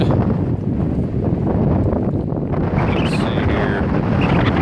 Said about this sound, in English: That's how windy it is. It's messing my camera up.